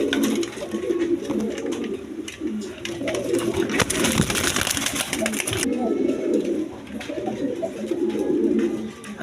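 Pigeons offered for sale, including an orange chila pair, coo in low, repeated rolling phrases close by, while someone talks over them almost the whole time.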